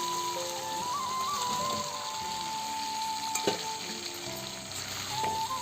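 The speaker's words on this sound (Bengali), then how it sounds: "ভাজা আলু আর কচুটাকে দিয়ে দেব" Food sizzles and crackles in a hot pan as fried potato and taro pieces are dropped into cooked spice paste and stirred, with a short clatter partway through.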